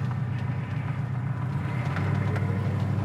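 A 1968 Plymouth GTX with a 440 engine idles steadily at about 1,000 rpm, a close, even low rumble that holds without gaps and with no talking.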